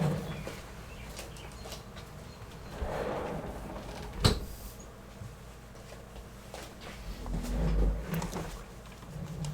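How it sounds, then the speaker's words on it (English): A door is shut indoors, giving one sharp thud midway through a steady low background hum, with no talking. "Let me close my door real quick."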